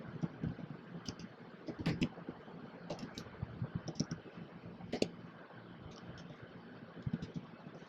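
Keys on a computer keyboard click in quick, irregular bursts close by, light tapping with scattered louder strokes over a faint steady fan hum.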